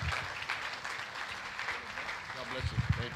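Church congregation applauding during a French-language sermon, a soft, fairly distant patter of clapping that runs throughout, with a voice and other voices rising over it toward the end.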